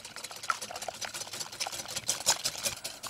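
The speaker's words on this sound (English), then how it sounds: "So whisk the egg whites until they start to form little peaks." A whisk beats egg whites in a bowl, making quick, even, rhythmic strokes that stay fairly faint and close throughout.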